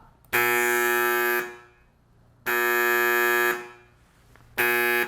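A loud electric buzzer blares in three long, steady bursts with short silent gaps between them, harsh and tonal.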